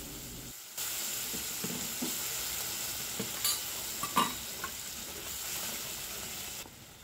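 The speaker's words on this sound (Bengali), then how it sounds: "সেই পেস্টটা এবার তেলের মধ্যে দিয়ে দেয়া হলো।" A blended paste of poppy seeds, sesame, green chili and peanuts hits hot oil and sizzles steadily, with soft stirring scrapes and a few sharp clinks of a spoon against the pan, no talking.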